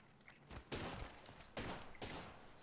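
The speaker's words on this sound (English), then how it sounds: "Stop shooting me, man." Gunfire in the video game Apex Legends: several faint bursts of rapid shots in separate volleys, distant and thin against a quiet background.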